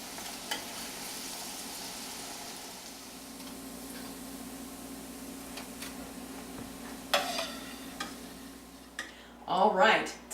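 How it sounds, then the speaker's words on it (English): Falafel balls deep-frying in hot oil, eight at a time, a steady soft bubbling sizzle that rises into louder crackling bursts near the end. "Now we're going to fry 8 of them at a time."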